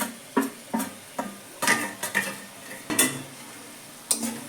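Kashmiri chilli, turmeric and chaat masala powders are sautéed in oil for a fish curry, with a utensil scraping and stirring in a series of sharp, irregular clinks and scrapes over a soft, low sizzle, close and clear.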